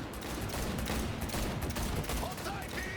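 Rapid bursts of gunfire from a car chase in the video game Cyberpunk 2077, dense and loud over engine roar and background noise, with voices shouting in the mix.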